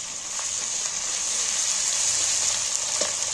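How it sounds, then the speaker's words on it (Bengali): Chopped onion frying in hot oil with ginger-garlic paste, a steady close sizzle with faint crackles, alone without voices. "দেখো পেঁয়াজটা ভাজা হয়ে গেছে।"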